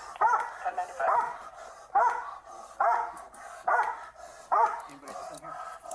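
A police dog barks in six loud, evenly spaced bursts, nearby and insistent, with low background noise between barks.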